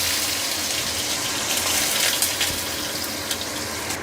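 Potatoes hit hot oil already seasoned with dried red chili, bay leaf and panch phoron, setting off a loud, steady, close sizzle with faint crackles throughout.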